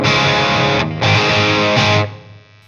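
An electric guitar played through a Two Notes Opus with Marshall amp simulation and a dirty 212 cab gives loud, thick distorted chords, two sustained strums with a brief gap, then ringing out and fading.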